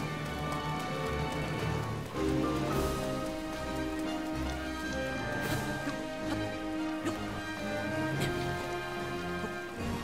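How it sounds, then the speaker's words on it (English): Steady rain falling in The Legend of Zelda: Breath of the Wild during a castle fight, a continuous wash of patter running the whole time beneath layered game music and effects. "It's been raining most of the time we've fought this castle."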